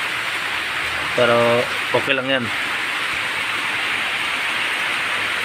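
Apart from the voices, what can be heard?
heavy rain falling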